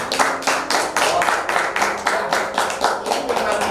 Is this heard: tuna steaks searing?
no